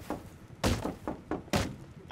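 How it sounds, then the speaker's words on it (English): Knocking on a door in the video game Rust: several dull, thudding knocks in an irregular rhythm, close and moderately loud, with a sharper louder hit at the very end. "I'm knocking on that door."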